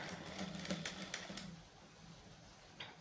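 A sewing machine stitches a churidar seam for a V-neck collar, front-pleat, side-open churidar, giving a quiet mechanical whir with rapid clicks for about a second and a half before fading to near silence.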